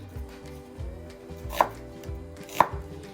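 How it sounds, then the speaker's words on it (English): Knife chopping onions on a cutting board, with two sharp, close blade strikes standing out over a steady, softer rhythm of quick cutting. "I'm gonna go ahead and chop these onions."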